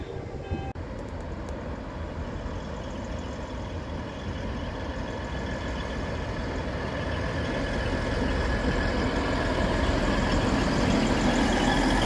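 A Ludmilla diesel locomotive idles nearby with a continuous low, chugging rumble that slowly grows a little louder, steady throughout with no voices.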